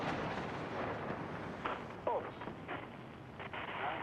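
Large 1,000-pound bombs explode over Baghdad during wartime, heard as dull booms and rumbling blasts in a continuous noisy wash, with a brief startled exclamation.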